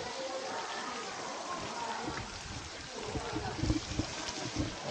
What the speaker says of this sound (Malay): Habis lah hujan semua